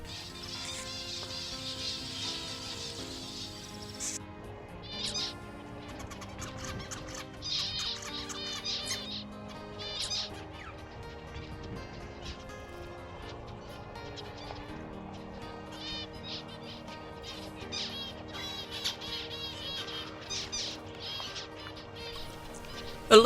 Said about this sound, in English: A lonely male finch practising his song.